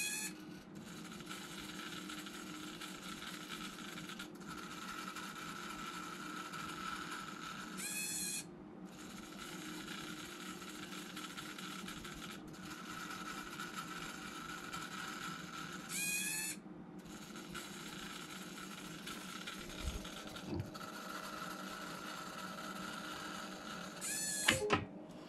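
Small servo motors drive Arduino-controlled speedometer and tachometer gauges for a V12 Corvette, giving repeated short whirring bursts at regular intervals over a steady background hum, fairly faint and with no talking.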